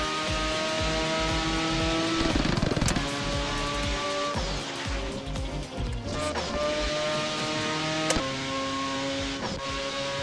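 A Mazda RX-7 in a drifting video game revs loud and close, its engine note climbing and dropping in pitch as it shifts and slides, sustained throughout with no voices.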